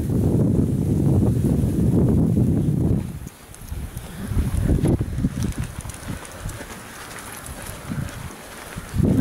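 Gusty wind buffeting the microphone in loud low rumbles, dropping away briefly and then returning in uneven blasts.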